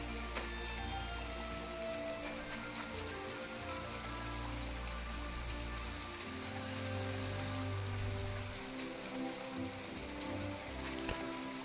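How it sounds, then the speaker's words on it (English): Steady rain patters in the game My Time At Portia, a continuous soft hiss of drops on surfaces, faint and even, with a low game tone underneath and no voices. "Maybe this rain will go away."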